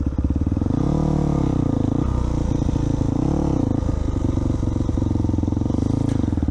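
A rebuilt Yamaha WR400 motorcycle engine runs loud and close while the bike is ridden and turned around, its steady throbbing exhaust rising and dipping with throttle changes.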